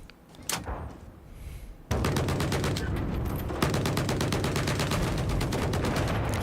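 A LAW rocket launcher shot and impact in a video game: a sharp blast, then sustained rapid crackling bursts of gunfire and explosions that stay loud and dense to the end.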